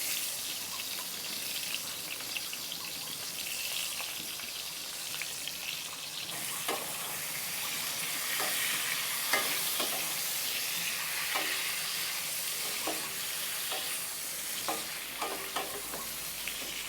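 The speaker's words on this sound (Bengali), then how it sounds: "এবার আমি পটলগুলোকে এক এক করে ভেজে নিচ্ছি।" Pointed gourd (potol) rubbed with salt and turmeric fries in hot oil, a steady close sizzle with intermittent clinks and scrapes as the pieces are turned.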